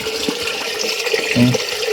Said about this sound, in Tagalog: Grabe, lakas po ng agas ng tubig.